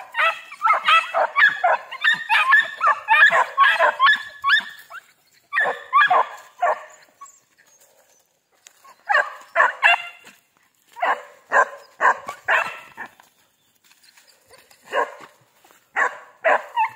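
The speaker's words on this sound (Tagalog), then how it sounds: "ang saya ng mga aso guys." Several dogs barking excitedly on a farm, bursts of rapid yips and barks in clusters with short pauses between, fairly close and lively, some whimpering mixed in, no talk.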